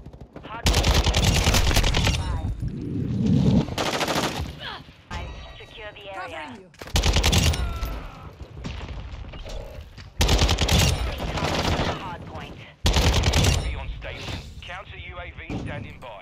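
An RPK light machine gun in Call of Duty: Modern Warfare II fires several loud, sustained bursts separated by short pauses, with speech between the volleys.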